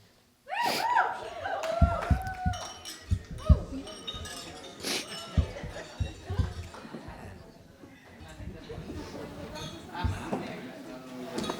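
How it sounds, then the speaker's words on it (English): Wedding guests clink glasses in a toast, with scattered glassy chinks amid lively chatter, gasps and laughter from a crowd nearby. "So everyone, please raise a glass to celebrate Nicole and Matt."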